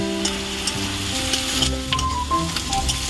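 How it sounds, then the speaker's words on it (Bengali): Onions sizzle and crackle steadily in a hot pan, frying for an egg curry, with small stirring scrapes over a constant close sizzle and no talking. "ঝুমা এখন পেঁয়াজটা লাল লাল করে একটু ভেজে নিচ্ছে"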